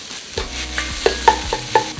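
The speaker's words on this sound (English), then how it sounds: "You wanna break it up with your spoon." A spoon breaks up Impossible plant-based ground meat in a hot pan, steady frying sizzle beneath a series of clinking scrapes and taps on the pan, close and fairly loud, with no voice.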